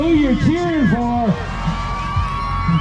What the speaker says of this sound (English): Make some noise. Let him know who you're cheering for.